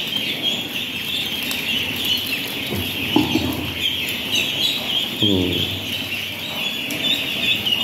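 Ducks calling in a farmyard in the morning, a few short quacking bursts standing out over steady background noise and some chicken-like clucking.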